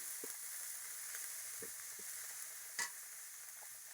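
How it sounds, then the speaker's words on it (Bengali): Garlic fries in a pan with a quiet, steady sizzle during village-style cooking. Soft scrapes of a spoon stirring sound at intervals, with one brighter clink partway through. "রসুন একটু লাল লাল করে ভাজে নেব।"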